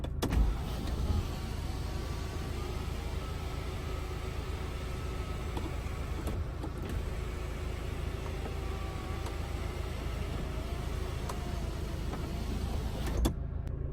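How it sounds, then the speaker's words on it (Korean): Electric folding side mirrors on a used SUV run with a steady motor whir lasting about thirteen seconds, close and even, ending with a soft click and no voices. "접이식 사이드미러"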